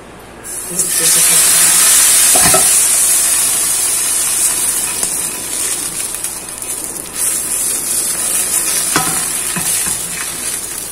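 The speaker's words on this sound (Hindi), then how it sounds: "अब इसको सेक लेते हैं। ये देखें, पैन में 1 टीस्पून के जितना ऑयल डाला है।" Kulcha pan pizza frying in about a teaspoon of oil in a pan, a loud, steady sizzle and hiss that runs throughout with brief stirring clatters.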